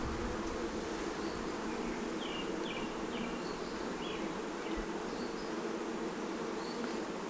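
Honeybees hum in a steady, dense drone around an open hive during an inspection for capped queen cells, with faint higher buzzes drifting over the continuous murmur.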